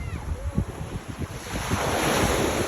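Sea waves washing against the shore of an island beach, a close rushing surf with wind noise on the microphone, building to a steadier wash toward the end.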